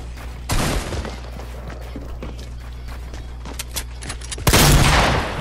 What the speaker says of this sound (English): Where'd my shots go though? Like for real? I did not miss those shots.